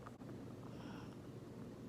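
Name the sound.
strong wind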